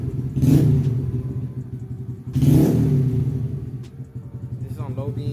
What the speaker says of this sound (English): If you rev it.